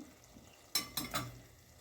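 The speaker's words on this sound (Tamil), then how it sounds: "இப்போ ஒரு பரட்டிக்கிறோம் நடுவில்." A few quick scraping stirs of a spoon through thick eggplant gravy in a frying pan, with a soft sizzle underneath.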